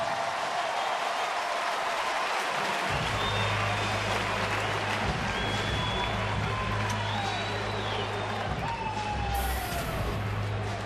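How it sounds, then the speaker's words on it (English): A baseball stadium crowd applauds a Detroit player after his 300th home run, a broad, distant roar of clapping and cheering that persists as low organ-like tones and a siren-like sound weave through it. "Let's listen to the round of applause for Cabby."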